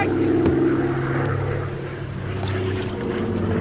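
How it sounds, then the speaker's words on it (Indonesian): A Nazi German fighter plane from a war film passes overhead with a steady, loud propeller drone that swells slightly and holds for a few seconds. "ia menyadari bahwa itu adalah pesawat tempur milik Nazi Jerman"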